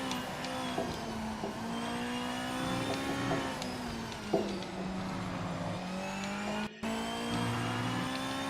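A Honda Civic engine in a racing video game revs steadily, its pitch rising and falling through gear changes, with a faint tire squeal and a brief break in the sound near the end.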